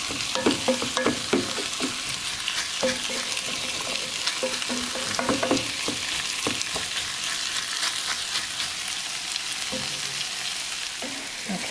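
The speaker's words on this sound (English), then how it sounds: "I've got my heat on medium high, and I'm stirring constantly." Corn chowder cooking on medium-high heat is stirred constantly, with a spoon scraping and clacking in the pot over a steady soft sizzle, close and without talk.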